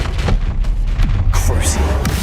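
A Confringo fire spell from Hogwarts Legacy goes off as a string of deep booming blasts with crackling bursts on top, loud and close over a rumbling battle bed.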